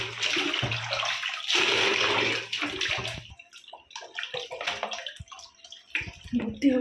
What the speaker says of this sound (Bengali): এই দুটো ভর্তি করতে হবে